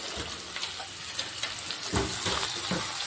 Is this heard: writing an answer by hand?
no